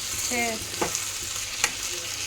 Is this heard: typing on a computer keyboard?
no